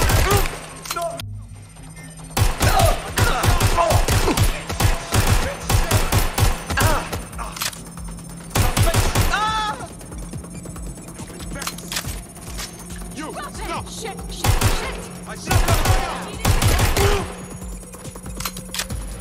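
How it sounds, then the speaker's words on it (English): Bursts of gunfire in Watch Dogs Legion: loud, close volleys of rapid shots in several clusters separated by quieter stretches, with a brief voice cutting in partway through. "I see shots fired!"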